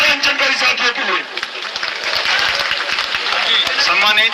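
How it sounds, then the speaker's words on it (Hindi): A crowd at a protest rally stage applauds steadily, a dense wash of many hands clapping at once, loud and sustained from start to finish. "एक बार जोरदार तालियां मंच पर उपस्थित 11 अंचलकारी साथियों के लिए।"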